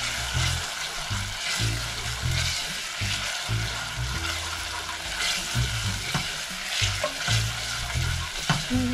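Chole masala with ginger cooks in a pan with a strong, close sizzle while it is stirred all the time, making repeated scraping, wet squelching strokes over the continuous frying.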